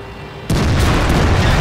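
A tank gun from the SU-100 tank destroyer in World of Tanks fires a single loud, deep boom that cuts in abruptly after a quiet moment and rolls on with a sustained rumble.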